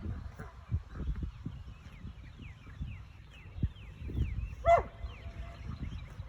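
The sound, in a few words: dog barking at charging cows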